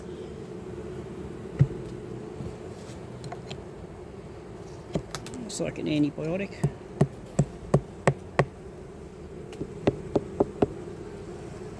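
Honey bees buzz softly around an open hive during a winter inspection, a low steady hum under sharp clicks and taps of hive tools on wooden frames, while a person talks quietly.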